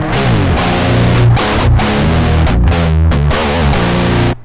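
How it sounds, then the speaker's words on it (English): A heavily distorted electric guitar through a free amp simulator's distortion channel plays loud, buzzing chords in a continuous riff, cutting off abruptly at the end. "What the A channel is, it's a distortion channel."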